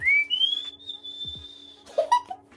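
A person whistles in imitation of a singer's signature whistle, a high sliding tone that climbs and holds, then short chirpy notes near the end, close and clear with no speech.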